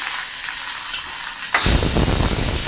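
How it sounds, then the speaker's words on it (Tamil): Mustard seeds, cumin, dried chilli and garlic fry in hot oil in a pan, a steady loud sizzle that jumps in strength partway through as the garlic goes in, with no talking. "கடுகு சீரகம் காஞ்சி மிளகாய் போட்டாச்சு வறுத்தாச்சு பூண்டு போட்டுக்கலாம்"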